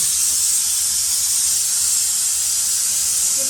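A pressure cooker on a home stove, cooking a tempered bottle gourd dish, gives off a loud, continuous steam hiss that holds steady throughout with no voices over it.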